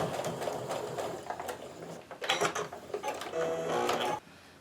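A sewing machine stitches a quilt block in short, rapid runs of mechanical whirring and needle chatter, with brief pauses between bursts before stopping near the end; close but fairly quiet, with no talking.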